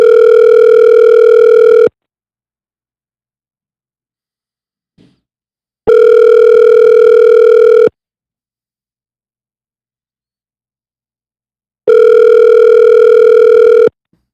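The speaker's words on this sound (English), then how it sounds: "You just let the phone ring." A telephone rings out unanswered in long, steady two-second tone bursts separated by equal silences, three rings in all, loud and clear with no voices.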